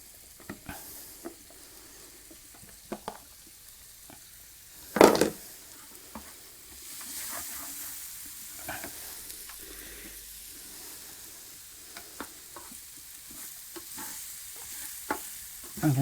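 Mushrooms fry in a pan, a quiet steady sizzle with spoon scrapes and stirring clatter, one louder knock near the middle and a few sharp clicks scattered throughout.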